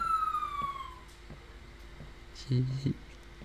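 Police car siren in the Garry's Mod video game, a loud falling wail at first that fades away, followed by a short electronic honk-like burst, with voices heard in the background.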